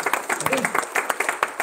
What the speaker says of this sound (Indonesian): bagi lagi sekali tepukan yang hebat